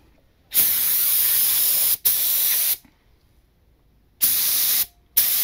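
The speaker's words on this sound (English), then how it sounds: "look, it's spitting out chunks of paint here." A Harbor Freight purple spray gun sputters old yellow paint with chunks in it, giving loud, steady hissing bursts close by: two long sprays, a pause, then two shorter ones.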